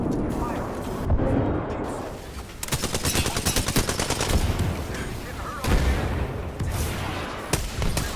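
Rapid gunfire from an Apex Legends firefight rattles in dense bursts with brief pauses, loud and close throughout, with talk faintly mixed in.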